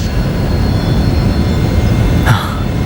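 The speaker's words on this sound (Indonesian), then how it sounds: "Dan sekarang Rio mengejar Asuka dengan menggunakan jet gamma" A jet aircraft roars steadily in a Ultraman Dyna tokusatsu episode as the Gamma jet gives chase, a loud continuous engine rumble and whine with a brief sharper burst near the end.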